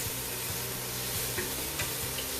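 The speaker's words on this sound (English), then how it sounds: "Stir everything together. You don't want it to burn. You want it just to saute." Chorizo and vegetables for a Portuguese-style carrot soup sauté in a pan, with a steady close sizzle and occasional scrapes and stirs of a spoon.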